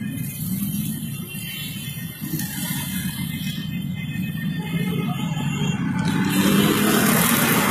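Dense road traffic on a blocked road in Karachi, with car engines rumbling and revving steadily nearby and the noise building toward the end.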